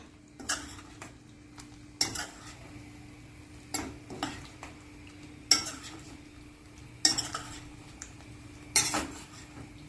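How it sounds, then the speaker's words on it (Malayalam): A utensil stirs marinated soya chaap into thick masala gravy in a pan, giving sharp, irregular clinks and scrapes against the metal every second or two over a faint low hum, with no speech. "ഇത് നല്ലോണം ഇളക്കി മിക്സ് ചെയ്യാം"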